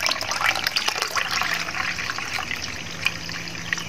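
Water poured into a homemade plant fertilizer mixture, a close steady trickling stream splashing into liquid with small splashes, no voices.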